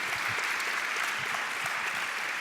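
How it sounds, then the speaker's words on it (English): Conference audience in Seattle clapping together in a sustained, even round of applause, dense and steady throughout with no speech on top. "Let's give them a round of applause"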